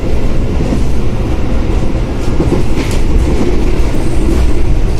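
Steady rumble and rattle of the Mutiara Timur night train running between Surabaya and Banyuwangi, heard from inside an executive carriage, with continuous low rolling noise and faint wheel clatter throughout.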